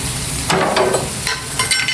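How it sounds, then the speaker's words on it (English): Sausages sizzle and crackle on an Aldi griddle at breakfast, with bursts of scraping and stirring as they are rolled and moved, close and clear with no talking. "Bring these sausages up a little bit. Get a little bit more. Let them cook a little bit better."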